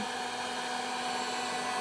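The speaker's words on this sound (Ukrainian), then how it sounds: "Зараз прогріється фен" A steady, continuous blowing whir of a hair dryer running close by, heating plastic to repair eyeglasses, even and unchanging throughout with no voices.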